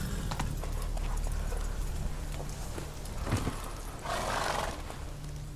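A horse galloping with continuous clip-clop hoofbeats, then a brief neigh near the end, in the Witcher 3 video game, heard close over a dense game soundscape.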